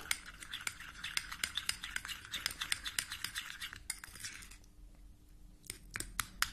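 A spoon scrapes and clicks steadily against a bowl while a honey face paste is mixed, a quiet close-up run of quick taps and stirs with a brief lull near the end.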